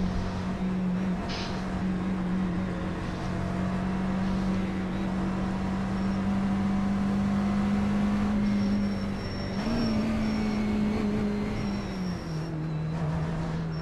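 A McLaren race car engine in the iRacing sim drones steadily and loudly throughout, its pitch rising and dipping slightly with revs, with a few brief crackles of exhaust backfire.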